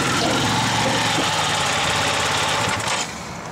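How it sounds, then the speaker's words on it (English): A KTM 500 motorcycle engine roars loud and close in a steady, throbbing drone before easing off slightly near the end. "Riding the mighty KTM 500."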